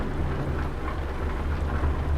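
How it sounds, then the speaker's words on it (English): Steady, dense rainfall hisses continuously in Euro Truck Simulator while trucking in Scotland, a close, even wash of drops with no talk over it. "I did set Euro Truck Sim to be more rain"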